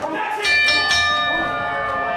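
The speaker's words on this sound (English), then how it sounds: "The ref calling the bell" A wrestling ring bell rung by the referee at an indoor match clangs several times in quick succession, bright and ringing over crowd noise and an excited commentator's voice.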